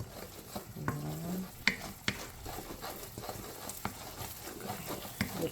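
Chopped onions and garlic sizzle in a hot oiled pan for chicken pastil, a steady frying hiss broken by scraping stirs and utensil knocks, with a brief spoken word.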